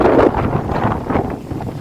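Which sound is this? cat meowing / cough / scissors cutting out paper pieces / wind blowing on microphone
wind blowing on microphone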